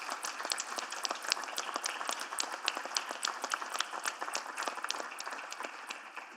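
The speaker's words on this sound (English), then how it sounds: "So round of applause for everyone joining online as well" Scattered audience clapping at a city council meeting, with individual hand claps standing out in a fairly light, steady patter at moderate distance.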